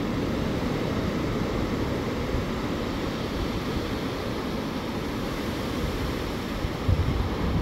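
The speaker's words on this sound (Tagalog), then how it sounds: "Tapos may mga malalaking alon to." Large ocean waves surge and wash in a continuous roar, mixed with heavy wind buffeting against the microphone, with no voices.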